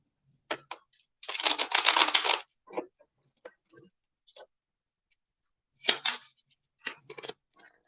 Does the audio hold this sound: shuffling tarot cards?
yes